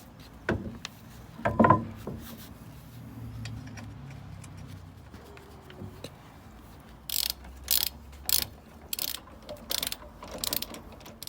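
Wheels being refitted on a Ford ST170 with a ratchet tool, a few clunks followed by bursts of rapid clicking ratchet strokes, close and fairly quiet, with no talk.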